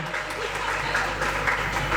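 Audience applause fills a 75th anniversary celebration and reunion, a steady dense wash of clapping from a crowd, fairly loud and continuous with faint voices mixed in.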